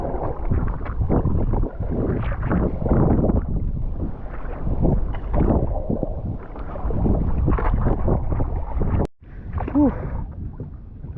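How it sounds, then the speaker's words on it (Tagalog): Strong wind buffets a small fishing boat out on the water during a thunderstorm, a loud continuous rush and rumble of gusts battering the microphone, cutting out briefly near the end before resuming. "Grabing hangin men."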